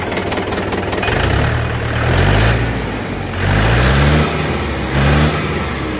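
An old-model tractor engine runs nearby, loud and close, with a low, rounded throb that swells in repeated revs over a steady idle, no voices heard.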